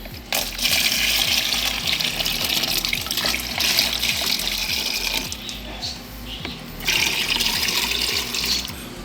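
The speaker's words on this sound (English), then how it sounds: "Let's add some water." Tap water gushes steadily into the plastic bucket of a scratch cleaning mop, a loud continuous splashing rush that dips briefly and surges again.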